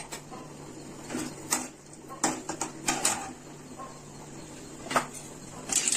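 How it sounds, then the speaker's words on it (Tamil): Irregular small pops and crackles of mustard seeds spluttering in hot oil with urad dal, scattered bursts over a faint steady sizzle, close and fairly quiet. "கடுகு பொரியுதுங்க, பொரிஞ்சிருச்சு."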